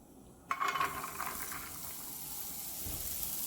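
Broccolini stems and small-chopped garlic hit hot oil over medium heat, setting off a soft sizzle that starts abruptly and then settles into a quiet, steady hiss.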